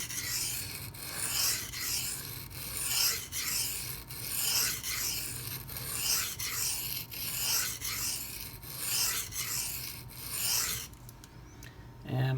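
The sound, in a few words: sharpening a Microtech Socom Elite CTS-204P knife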